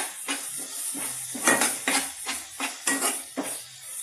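A spoon stirs ladies finger (okra) palya with garam masala, coriander powder and chilli powder in a pan, scraping and clinking in a steady rhythm of about eight strokes over a faint sizzle, close and with no talk.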